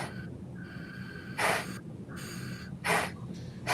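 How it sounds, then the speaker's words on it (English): Heavy breathing close into a microphone during a live conservation show stream, with several sharp loud breaths or sniffs at intervals over a steady hum and a faint background tone. "we can hear you breathing"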